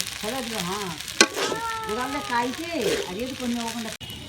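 Chow mein stirred and mixed in a pan with tomato sauce, a soft sizzle and scraping of the noodles, with a sharp clack near the start, under continuous talking.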